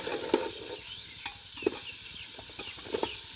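Vegetables and rice frying together in a pan for khichuri, stirred with a few distinct scraping strokes over a steady, soft sizzle, with no talking.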